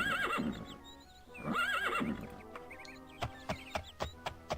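Horse neighing in a video game, two whinnies close by, followed by a run of clip-clopping hoof steps; no talking.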